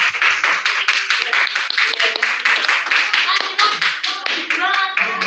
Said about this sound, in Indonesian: Ayo, kita beri tepuk tangan